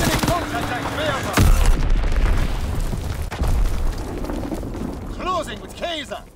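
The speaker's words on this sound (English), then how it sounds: "Dropping Fritz X-Bomb!" A Fritz X bomb explodes during a Domination match on Pointe du Hoc in Call of Duty: WWII, with two heavy booms amid ongoing battle noise and a voice speaking over the action.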